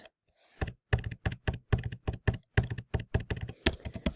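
Bank card details being typed on a computer keyboard, a quick, close run of crisp key clicks after a brief pause, with a steady uneven rhythm.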